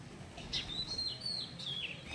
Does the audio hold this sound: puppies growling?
no